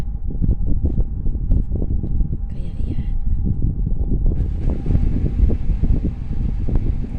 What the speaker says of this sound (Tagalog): Mahangin na dito sobra masyado sa laundry